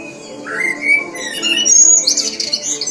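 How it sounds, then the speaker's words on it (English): A small common blackbird sings in a strong, clear voice, its bright whistled phrases and trills rising and falling continuously near the microphone over a faint low background hum. "Merlo, the black bird, a small one, very strong voice."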